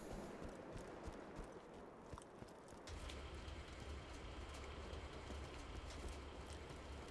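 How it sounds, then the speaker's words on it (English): A train in the Borderlands 2 Christmas DLC rumbles past in-game, a steady low drone that deepens after a few seconds and holds near and loud against faint game ambience, with no talk. "The train will be coming around the corner again"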